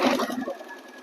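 An Usha sewing machine stitches a zigzag picot edge on a saree fall, a loud whirring run for about half a second that then drops to a fainter, thinner hum.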